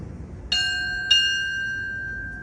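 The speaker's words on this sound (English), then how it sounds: "Bells." A ship's bell rings out at a United States Navy retirement ceremony, with two sharp metallic strikes about half a second apart, each leaving a clear ringing tone that lingers in a quiet room.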